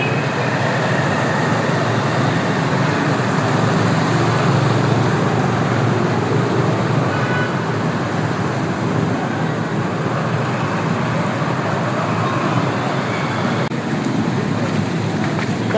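Vehicles driving through flooded streets of Kathmandu after heavy rainfall, a steady wash of traffic noise and water swishing under tyres, continuous and moderately close, with no talking.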